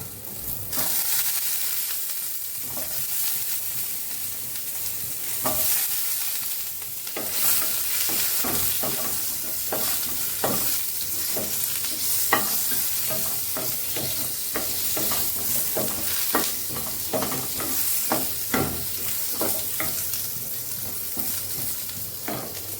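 Potato pieces fry in hot oil for a fish curry, a constant close sizzle under repeated scraping and clinking strokes of a spatula stirring them in the pan, with no talk.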